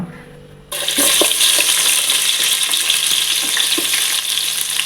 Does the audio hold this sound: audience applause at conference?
no